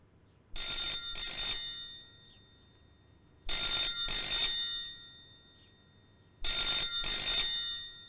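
A telephone rings in three evenly spaced bursts, each a pair of bright trilling rings, loud and close in a quiet room.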